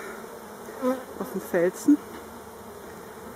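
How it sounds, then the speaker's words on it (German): Agitated bees at a Warré hive buzz in a soft, steady drone, with a few louder passes as individual insects fly close; someone speaks briefly over them. "Knäuel noch nicht, aber sehr irritierte Bienen."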